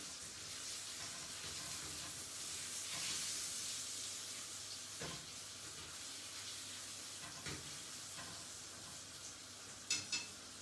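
Saltimbocca alla romana, meat with melting cheese, frying in a pan as a steady soft sizzle and hiss, with a few faint clinks near the end.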